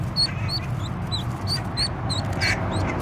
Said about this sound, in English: Okay, baby duck, let's go.